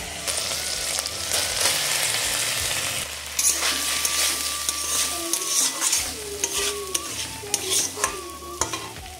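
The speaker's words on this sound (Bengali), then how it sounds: "এবারে গ্রেট করা ডিমটা আমি ওই ফোড়নের মধ্যে দিয়ে দেবো।" Grated boiled egg fries in a hot spice tempering with green chilli and ginger paste for an egg bharta. A spoon stirs and scrapes the pan in close, uneven strokes over a steady sizzle, with no talking.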